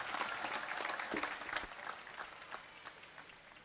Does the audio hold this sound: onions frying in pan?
no